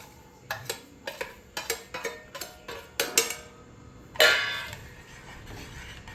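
A spoon scrapes and taps around a pan as roasted semolina shira is stirred, a steady series of close, evenly spaced metallic knocks followed by one louder scrape.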